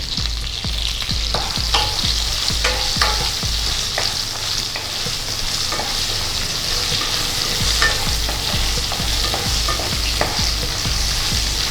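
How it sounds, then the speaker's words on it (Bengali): Long-cut potatoes with slit green chillies and salt fry in a pan with a steady sizzle, overlaid by regular scraping stirs of a spatula at a brisk rhythm, close and fairly loud, no talking. "আলুটা আগে একটু ভাজা ভাজা করে নেব"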